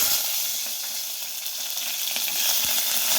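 Cumin and mustard seeds sizzle in hot oil, a steady bright crackling hiss with scattered small pops, close and continuous.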